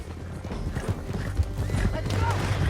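Horse hooves galloping in Red Dead Redemption 2, a rapid continuous clatter of hoofbeats under rumbling game ambience and talking voices, with a faint whinny.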